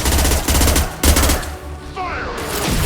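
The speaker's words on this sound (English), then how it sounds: "Firing a high-impact shot!" A high-impact gunshot in Mass Effect 2 lands as two loud, heavy bangs about half a second apart. Rattling combat noise follows them.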